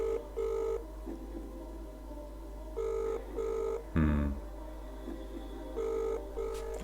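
A telephone rings unanswered on the line during a call, with repeated paired ring bursts at a steady rhythm over a constant low hum, and a brief clunk or click in the middle.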